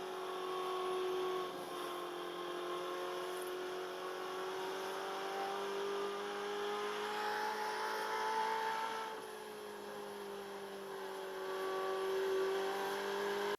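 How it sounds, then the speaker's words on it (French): Ferrari V8 engine in a racing video game, a faint, steady droning whine that rises and falls gently as revs change, heard alone without talk. "on se remet un petit coup de vocalise du V8 Ferrari"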